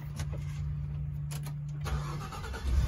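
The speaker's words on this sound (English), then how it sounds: "If you're on site, we can start the engine" A truck engine cranks and starts on site, its steady low hum shifting into a louder running idle near the end, close and continuous with no talk.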